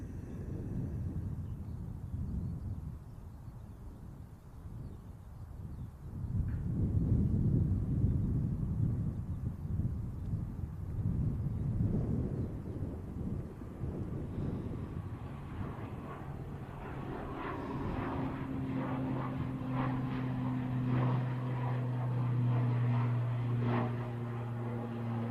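An airliner at Manchester Airport begins its departure roll, a distant low engine rumble that swells and steadies, with a droning tone building toward the end amid light wind noise.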